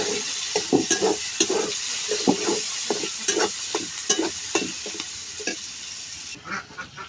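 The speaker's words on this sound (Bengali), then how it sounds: "এখন ওই তেলে পেঁয়াজ, তেজপাতা, গরম মশলা দিয়ে ভেজে নিব।" Onions, bay leaves and garam masala frying in hot oil, with a steady close sizzle and repeated stirring scrapes in an even rhythm.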